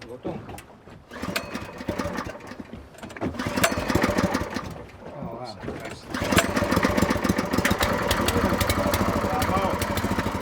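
An old petrol-powered air compressor runs with a rough, rattling engine chug that keeps going throughout and grows louder partway through, with people talking over it.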